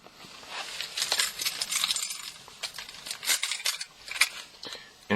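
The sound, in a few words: car key being handled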